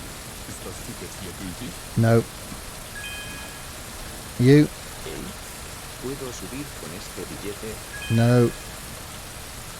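Continuous rain in the video game Tourist Bus Simulator patters in the background while a few short spoken words break in, spaced several seconds apart.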